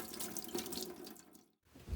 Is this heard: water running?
yes